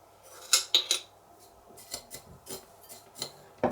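Metal spoon clinking and scraping against a jar and cup while granulated instant coffee is measured out for a tiramisu coffee sauce, three sharp close clinks followed by softer scattered taps, no talking.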